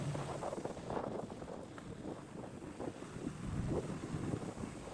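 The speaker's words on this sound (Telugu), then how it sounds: "బైక్ నడుపుతూ గాలి శబ్దం తప్ప ఇంకేం వినిపించదు" Steady, blustery wind rushing and buffeting close to the microphone as air streams past a motorcycle rider on hill roads in Lavasa, near Pune, with no voices.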